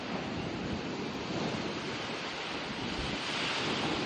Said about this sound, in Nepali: यस्तो डरलाग्दो हावा आइरहेको छ